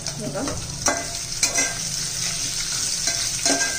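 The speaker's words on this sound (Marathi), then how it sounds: "छान असं परतून घ्यायचंय आपल्याला। आता आपण कांदा परतून घेऊया।" Sliced large onion sizzling in oil with coconut for a winter pavta rice dish, a close, even fry with irregular scrapes and knocks of a spatula stirring the pan.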